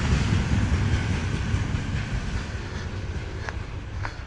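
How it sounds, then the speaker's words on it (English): A freight train rumbles past nearby in a village in Bashkortostan, Russia, with a heavy, continuous roar and faint clattering of wheels on the rails. "So one of those cargo trains."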